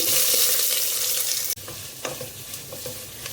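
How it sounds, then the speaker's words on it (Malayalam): Onions hit hot ghee with spices in a pressure cooker, making a loud, dense sizzle that drops back to a steadier crackling fry, with a couple of stirring knocks. "കുക്കർ വെച്ചു അതിലേക്ക് നെയ്യ് ഒഴിക്കുകയാണ് നെയ്യ് ചൂടായി അതിലേക്ക് സ്പൈസസ് ചേർക്കാം ഇനി ചേർക്കുന്നത് സവോളയാണ്"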